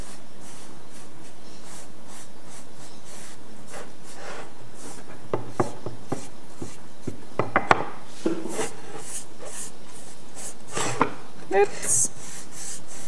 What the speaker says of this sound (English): I'll start with the wax puck side.